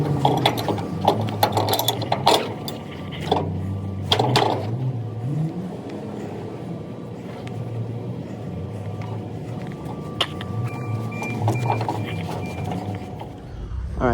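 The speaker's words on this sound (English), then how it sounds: "I got this side all winched down." A cargo strap winch on a truck trailer is ratcheted tight with quick mechanical clicks and clanks near the start. A lower, steady rumble and occasional faint clicks follow.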